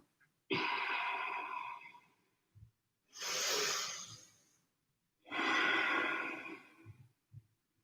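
Three deep belly breaths taken during a standing breathing exercise, each a long airy inhale or exhale lasting about two seconds, with soft sniffs and quiet pauses between them, close and alone.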